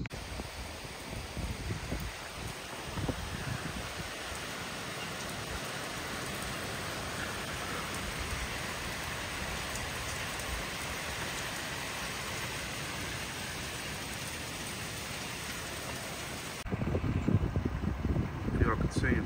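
Steady rain falls over a field during a hot, humid Missouri hunt, a constant close hiss that runs throughout and grows a little louder and rougher in the last few seconds.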